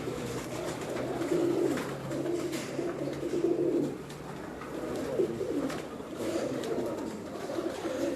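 Pigeons belonging to a pigeon keeper coo in soft, repeated low rolling phrases against a steady background hiss, fairly close and without any talk.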